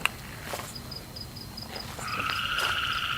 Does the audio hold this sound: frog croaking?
yes